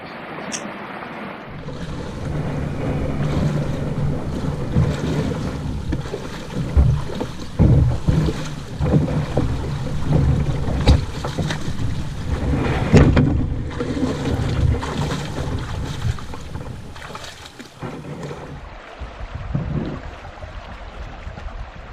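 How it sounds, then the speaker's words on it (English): A Royal Light canoe hull dragged over rocks and gravel in a shallow creek, with a continuous scraping, grinding rumble and irregular knocks, close and fairly loud, mixed with running water and wind buffeting the microphone. "it's sections like this where the Royal Light canoe comes in handy because I'll just drag it across"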